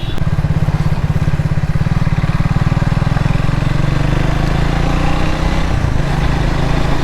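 A motorcycle engine drones steadily and loudly while riding in Hyderabad, with rapid rhythmic pulsing and wind rush, easing slightly toward the end.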